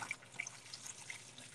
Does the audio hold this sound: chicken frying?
no